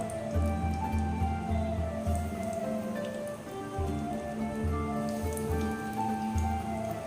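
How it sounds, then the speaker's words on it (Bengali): Chicken kathi pops frying slowly in oil over a low gas flame, a dense steady crackle and sizzle with soft popping, close and continuous with no talk. "এইভাবে করে ভাজতে হবে, ধীরে ধীরে ভাজতে হবে।"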